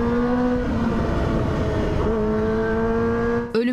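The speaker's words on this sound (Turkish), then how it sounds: "Bursa-İzmir otoyolunda kendilerince şov yapan motosiklet sürücüleri zaman zaman 300 km hıza çıktı." Motorcycles race at extreme speed along the Bursa-İzmir motorway, engines screaming in a loud, sustained high-revving whine that shifts pitch as they accelerate, ending in a brief rushing burst.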